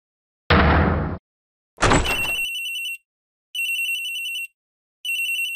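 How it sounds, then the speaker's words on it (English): Telephone ringing in the Ace Attorney video game, preceded by two loud noisy bursts, then three evenly spaced electronic rings, each lasting about a second, loud and alone. "This episode begins with a phone call."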